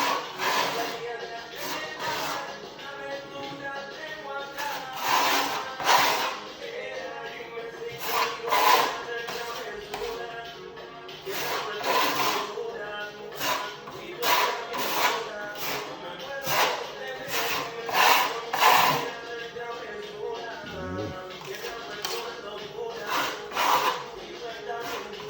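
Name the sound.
trowel applying Venetian plaster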